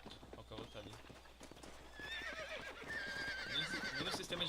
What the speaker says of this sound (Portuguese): Olha o cavalo tá ali.